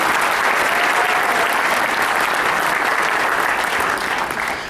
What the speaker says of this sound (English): guys a round of applause.